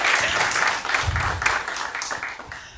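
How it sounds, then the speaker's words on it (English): Audience applause at a science burlesque show, a steady burst of clapping from a nearby crowd that carries through nearly three seconds, with a few louder thumps partway through. "So I think that deserves a round of applause."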